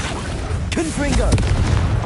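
Confringo blasting spell explosions in Hogwarts Legacy, a few sharp booming bursts over a continuous rumbling game mix with a voice calling out spell names.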